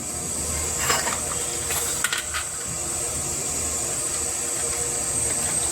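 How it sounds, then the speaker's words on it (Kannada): Water boils in an idli steamer pot with a steady, close hiss and bubbling rumble. A couple of faint clinks come near the start, and no one speaks. "ನಾನು ಇಡ್ಲಿ ಪಾತ್ರೆಯಲ್ಲಿ ಈ ಥರ ಹಾಕಿದ್ದೀನಿ ನೋಡಿ. ಅಲ್ಲಿ ನೀರು ಕುದಿಯಕ್ಕೆ ಇಟ್ಟಿದ್ದೀನಿ."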